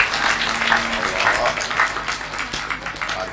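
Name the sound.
audience applause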